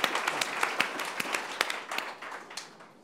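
Audience applause, a short burst of many hands clapping at close range, sharp irregular claps that fade toward the end.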